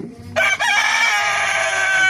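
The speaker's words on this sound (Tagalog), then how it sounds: "Tumitilaok na yung manok ko guys, gusto na siyang kumain." A rooster crows loudly and close by, one long drawn-out call rising and holding for about two seconds, with faint clucking before it starts.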